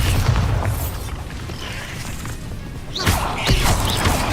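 The Bombarda blasting spell goes off in Hogwarts Legacy inside a taken-over house, a loud booming crash with rumbling debris, followed by a second sharp burst of smashing impacts near the end.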